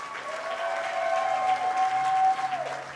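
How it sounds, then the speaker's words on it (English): Banquet guests applaud a sponsored team, a soft, even patter of many hands heard from a distance, with a steady tone ringing over it. "Give them a round of applause."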